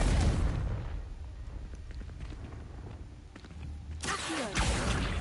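A Confringo fire spell explodes in Hogwarts Legacy, with a heavy boom at the start fading into rumble, shuffling steps and a second burst near the end.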